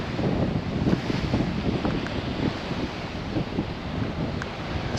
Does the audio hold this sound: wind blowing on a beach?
yes